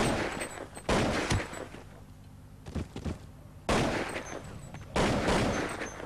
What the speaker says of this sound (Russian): Стреляет Люпис с девяточкой.